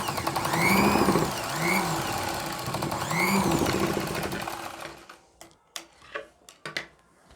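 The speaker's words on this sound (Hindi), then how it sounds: "और अब सिलाई लगा लेनी है।" Sewing machine stitching a child's blouse runs as a steady, close mechanical whirr with a rhythmic ticking chatter for about five seconds, then stops and leaves a few scattered clicks and knocks.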